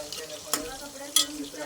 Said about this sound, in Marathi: चिकन आता मी शिजायला टाकलंय.